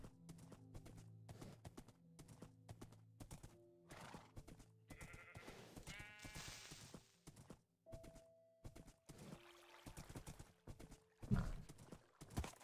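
A horse in the Minecraft video game walks with steady, evenly spaced clip-clop hoofbeats, close and clear, with a few brief tonal game sounds and a thunk near the end.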